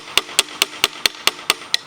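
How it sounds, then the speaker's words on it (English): A hammer taps the carburettor of a cheap motorbike that has a stuck float, giving eight sharp, evenly spaced metallic knocks close up. "surely a tap with a hammer will better fix it."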